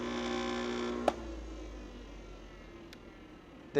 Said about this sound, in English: it will slowly cut this, and you push the tile through on both sides of the blade